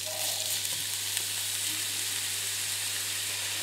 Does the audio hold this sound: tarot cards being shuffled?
no